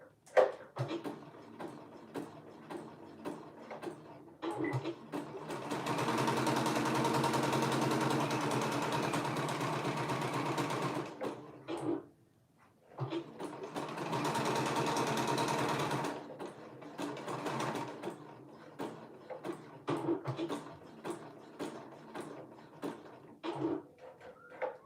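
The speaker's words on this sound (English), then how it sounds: "now I'm going to sew down the sides" A home sewing machine stitches down the sides of a handmade bag in two long, steady runs of motor whir. Short clicks and handling knocks come before, between and after the runs, and nobody speaks.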